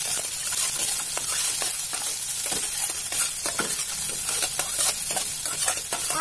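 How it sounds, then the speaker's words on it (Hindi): Two large onions and two green chilies fry in hot crackling oil, a loud, dense, continuous sizzle with frequent sharp pops and the scrape of stirring. "तेल चटकने लगेगा, दो प्याज डाल दूंगी, बड़े साइज के दो प्याज है, दो हरी मिर्च है डाल दूंगी।"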